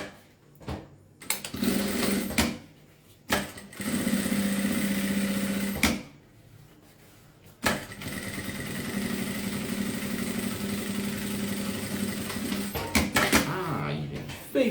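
A sewing machine topstitches a necessaire in several bursts of loud, rapid whirring, separated by short pauses, with someone talking between the runs.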